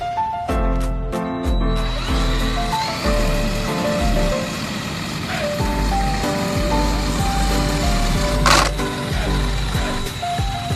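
A drilling machine spinning a surface for spin-paint art whirs in repeated short bursts at first, then runs as a steady loud whine with a rising tone, with scattered clatter and knocks throughout.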